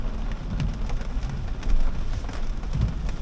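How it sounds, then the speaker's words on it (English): Extremely heavy typhoon rain pours onto an XPENG X9 MPV during a drive, as a dense, constant hiss and patter of water with low rumbling underneath. "Considering the typhoon, extremely heavy rain."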